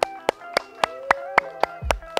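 A single person's rhythmic, evenly spaced hand claps at a musical performance, about nine crisp slaps over a sustained tonal hum, ending in a low thump.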